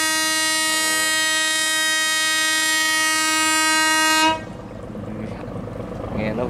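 A 2,000-ton twin-engine barge sounds a very loud, steady, rich horn blast for about four seconds. It cuts off abruptly, leaving rumbling water and engine noise.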